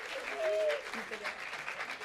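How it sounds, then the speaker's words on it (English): Theater audience applauding and cheering at a stage show, a broad wash of clapping and crowd noise that holds steady for about two seconds, with a brief whistle-like tone early on. "please give your loudest cheer to Briana."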